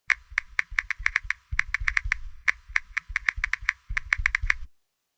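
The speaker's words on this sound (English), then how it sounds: "Now I'm going to start typing on the keyboard" Close, crisp clicking of fingers typing on a computer keyboard in quick irregular bursts with brief pauses, loud and isolated, picked up through a Maono PD200W microphone before cutting to silence.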